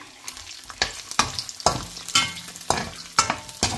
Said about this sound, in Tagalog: Ito na yung tamang pagkakataon na maglagay na tayo ng karne sa ating mainit na mantika.